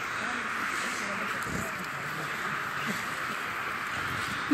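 Crows caw faintly outdoors, somewhere away from the microphone, under people talking nearby.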